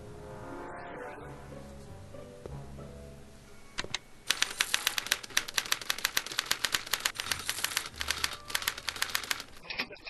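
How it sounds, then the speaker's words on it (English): Typewriter keys clack in a rapid, uneven burst of sharp strikes inside the Back to the Future video game, loud and close, following a short stretch of talk and game ambience. "What's this typewriter do again?"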